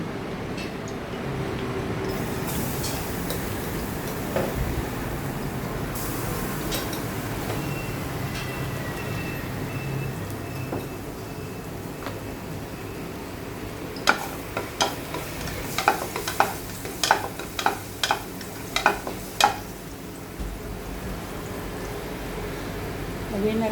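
Garlic sizzles in hot cooking oil in a pan for pork igado, a steady frying hiss with stirring, with sharp clattering scrapes of utensil on pan in the second half.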